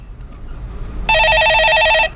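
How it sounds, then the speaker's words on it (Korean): A telephone rings in one steady burst of bright, warbling electronic tone for about a second, loud and close, during a Korean stock-market call-in broadcast, with no voices over the ring. "예, 전화 받아보겠습니다."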